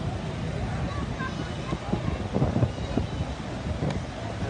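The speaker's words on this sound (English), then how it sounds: "Of course, as soon as I do, the wind comes out." Wind gusts across the microphone outdoors at a high school car show in New Dorp, Staten Island, New York, a steady close rumbling buffet that swells briefly midway.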